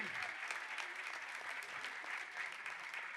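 Warm applause from an audience greets a speaker coming onto the stage at a spiritual discourse, steady continuous clapping from a crowd heard at moderate distance with no break.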